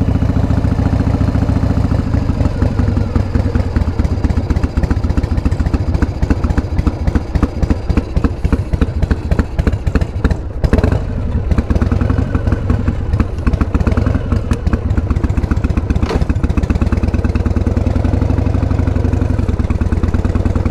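A 1988 Harley Davidson Heritage Softail fitted with a sidecar is ridden along, its engine producing a continuous, close, loud rhythmic thumping and clattering throughout, without any talking.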